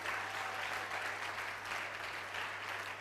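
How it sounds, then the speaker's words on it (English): An audience at a physiotherapy induction ceremony for a graduating class claps steadily for the alumni, a dense, even wash of applause from a crowd in a hall, with no talking over it. "So let's applaud the physiotherapy alumni."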